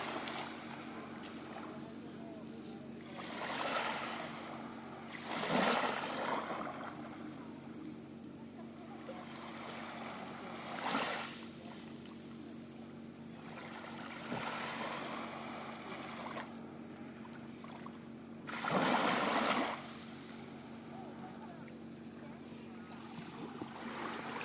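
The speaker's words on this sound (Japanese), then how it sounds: "皆さんにちょっとこの波音ちょっと聞いていただきましょうね" Gentle ocean waves wash in on a beach at night, with soft swells rising and breaking every few seconds and low steady background rumble between them, fairly quiet and without voices.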